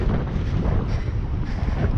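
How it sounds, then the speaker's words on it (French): Gusty wind buffets the microphone of a runner during the Trail Fort et Vert 2022 trail race, a loud low rumbling roar that is continuous and close, with no speech. "Ah, il y a toujours ce vent par contre."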